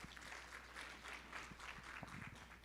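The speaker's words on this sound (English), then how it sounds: "May we give him another round of applause?" An audience applauding a speaker at a World Tuberculosis Day event: a soft, even patter of many hands clapping that carries on throughout, quiet and somewhat distant.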